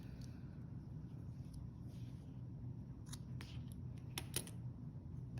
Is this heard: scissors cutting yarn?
yes